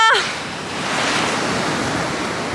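Steady roaring wind and rushing hurricane floodwater in Miami, a loud continuous wash of noise after a brief vocal sound at the start.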